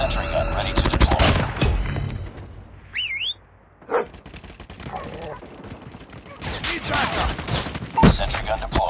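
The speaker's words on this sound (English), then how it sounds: "Sentry gun deployed." Gunfire in Call of Duty, where an automated sentry gun opens up amid dense, loud bursts and rattling fire. Game sound effects and chirping tones are heard alongside, with a short lull midway before the shooting resumes.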